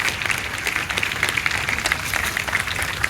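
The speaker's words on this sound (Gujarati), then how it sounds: "આપણે ખૂબ જ તાળીઓના ગડગડાટથી વધાવી લઈએ આ વાતને" Dense, sustained applause from an audience at a community charity event, steady clapping that fills the room without pause.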